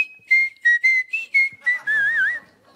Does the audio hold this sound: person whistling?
yes